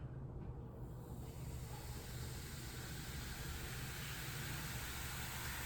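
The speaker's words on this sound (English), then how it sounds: "fizzing, and we see the craters that the vinegar is creating with the baking soda." Vinegar poured over a baking soda moon rock fizzes steadily, a continuous close hiss of bubbling that holds even and unbroken throughout with no voices.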